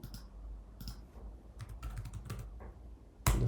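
Someone types on a computer keyboard while working in Figma, with short clusters of close, crisp keystrokes separated by pauses and a louder clack at the very end.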